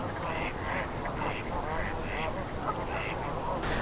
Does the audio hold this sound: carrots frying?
no